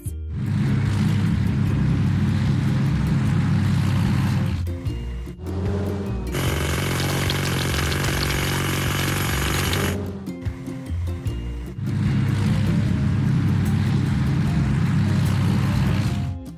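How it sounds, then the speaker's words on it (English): Cartoon hydraulic hammer on a construction vehicle breaking large rocks in a vehicle puzzle game, a loud continuous mechanical hammering rattle that fills most of the stretch, with a short change in tone midway before the pounding resumes. "Hydraulic hammer."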